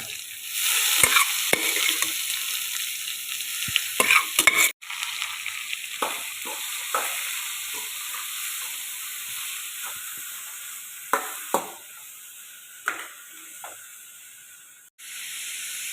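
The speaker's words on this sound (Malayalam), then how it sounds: "ഇനി നമ്മുടെ വേവിച്ച് വെച്ച നമ്മുടെ ചേമ്പിൻ്റെ കണ്ട ഇതിലേക്ക് ഇട്ട് കൊടുക്കുക." Cooked taro is stir-fried in a pan with curry leaves and dried red chillies, giving a steady sizzling hiss broken by scraping and clattering strokes as it is stirred, close up and with no talking.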